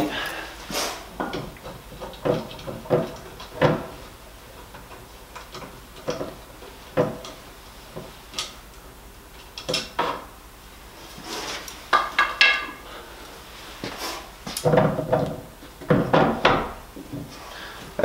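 Chisel prising the painted beads off a timber sash window, with a string of sharp knocks, taps and wooden cracks at close range, some in quick clusters, with short pauses between.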